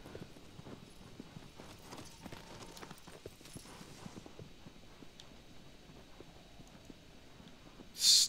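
Agro, the horse in the video game Shadow of the Colossus, trots with steady, quiet clip-clop hoofbeats that repeat evenly at a moderate distance. A brief bright burst cuts in at the very end.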